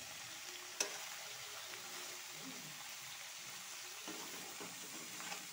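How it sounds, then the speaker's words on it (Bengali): A pan of Bengali curry ingredients with salt and turmeric fries with a steady, soft sizzle, while occasional scrapes and clinks from stirring break through the hiss at a moderate, close distance. "নাড়াচাড়া দিব।"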